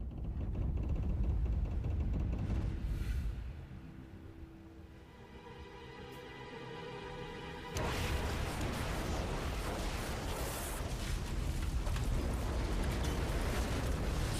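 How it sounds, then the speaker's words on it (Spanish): A deep, roaring rumble like a massive blast as the ship Mississinewa explodes, followed by a sustained, dense roar of raging diesel fire, loud and continuous throughout. "Una explosión enorme hace temblar al Mississiniwa"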